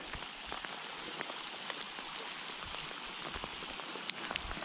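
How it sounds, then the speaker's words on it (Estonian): Rain falls on a winter riverbank during cold-weather fishing, a steady close patter of drops with occasional sharper hits, continuous and alone without talk. "meil saab vihma"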